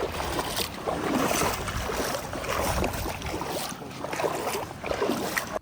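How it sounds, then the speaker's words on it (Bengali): Motorized fishing boat riding on the sea off Saint Martin Island, with steady engine drone, water splashing and wind buffeting the microphone throughout, and no voices. "তবে চিন্তা একটাই নৌকা যদিও মোটর চালিত"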